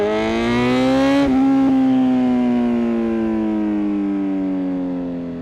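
A 2020 Kawasaki Z900 motorcycle engine revs up loudly with a rising whine, a quick gear shift, and then a long pull as the pitch slowly falls, close and strong.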